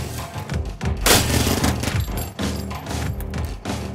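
Dense, loud gunfire from the Rico video game, with rapid overlapping shots and thumps packed close together and continuing throughout without pause.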